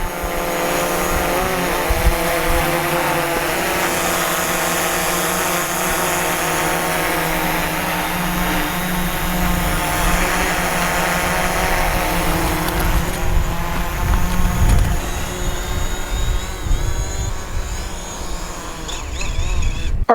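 A DJI Mavic Pro drone fitted with LED low-noise propellers comes in to land outdoors, its steady whirring buzz loud and close throughout, swelling slightly as it nears the ground.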